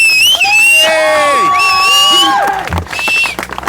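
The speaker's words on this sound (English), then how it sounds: "give yourself a round of applause" A crowd at an outdoor anti-migrant protest in Diss, Norfolk, cheers loudly with piercing whistles and shouts, and scattered clapping and whoops follow as the noise thins out near the end.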